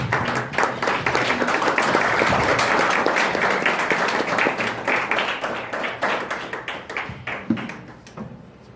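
A church congregation claps together in a dense, loud burst of applause that fades gradually toward the end.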